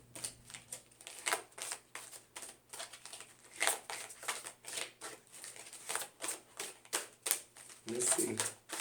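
Tarot cards are shuffled in a rapid series of soft riffling and flicking bursts, close and quiet, with brief pauses between handfuls and a faint steady hum underneath.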